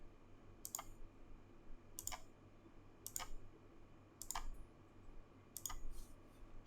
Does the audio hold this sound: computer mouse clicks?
yes